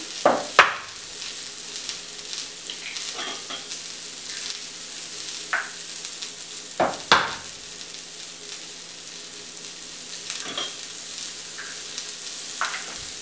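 Vegetables for a paleo breakfast omelette fry in a pan with a steady soft sizzle, broken now and then by sharper pops and clicks, close by with no talking.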